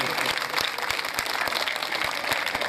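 Audience applause at a Bhagavat katha gathering, dense continuous clapping from a crowd, steady and fairly loud throughout.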